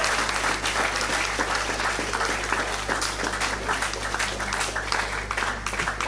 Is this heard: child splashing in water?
no